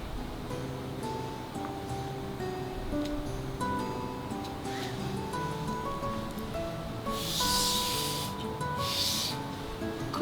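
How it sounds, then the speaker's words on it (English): Two short breathy bursts of someone blowing across dots of wet paint, soft airy gusts that rise over a faint background of quiet music and room hiss. "5 or 6 dots of color of paint, and then I'm going to blow on it like that,"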